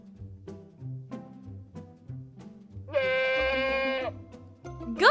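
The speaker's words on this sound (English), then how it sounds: "Goat." A goat bleats once, a sustained wavering call of about a second, standing out clearly over a steady backing music bed, with a brief second call starting at the very end.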